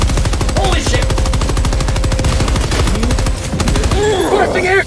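Rapid automatic gunfire rattles continuously in Helldivers 2, loud and dense with steady repeating bursts, while voices and game sounds overlap and a heavier impact hits near the end.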